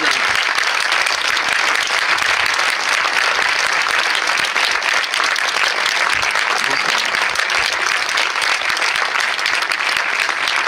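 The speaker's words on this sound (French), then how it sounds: "tonnerre d'applaudissements, monsieur Vincent Pérez" Thunderous audience applause for a guest at a French film festival debate, a sustained dense wash of clapping from many hands that holds loud and even throughout.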